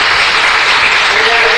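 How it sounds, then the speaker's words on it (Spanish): Dense, steady applause from a large crowd, a continuous wash of clapping with no pauses. "Un aplauso para"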